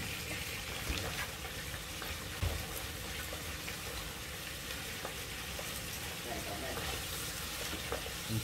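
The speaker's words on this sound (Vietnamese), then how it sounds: "Mình chiên cá vừa lúc là mình gấp ra mà." Fish frying in a pan of hot oil for a Mekong Delta hotpot, a dense continuous sizzle with crackles and occasional pops, close and steady throughout.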